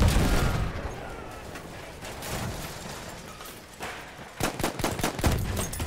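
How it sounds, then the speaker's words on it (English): Bursts of machine gun fire from the video game Battlefield Bad Company 2 rattle out amid continuous battle noise, building to a loud, rapid, close volley near the end. "a machine gun."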